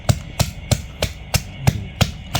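Fresh shrimp salad pounded in a mortar, with eight evenly spaced, solid thumps in a steady rhythm, close and loud.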